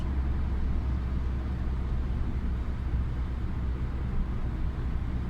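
A Fiat Egea cruises at 90 km/h in fifth gear around 2100 rpm, a steady broadband rumble of engine, tyres and wind heard from inside the cabin, constant and unbroken throughout.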